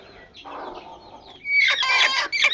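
Farm hens clucking and squawking close by, soft low clucks at first, then a louder burst of shrill squeals and squawks.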